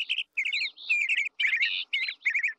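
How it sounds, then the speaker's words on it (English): Birds chirp and tweet in the trees in a children's TV show scene, with bursts of bright, quick, high song phrases repeated several times in close succession, clear and alone without talk. "Foof and Broby are trying to look at the birds in the trees."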